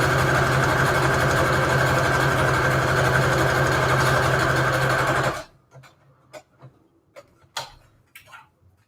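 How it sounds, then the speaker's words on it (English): Sewing machine stitching junk journal embellishments together, running in a steady, fast, humming mechanical rhythm for about five seconds, then stopping abruptly, followed by scattered soft handling clicks and rustles. "Let me sew these together"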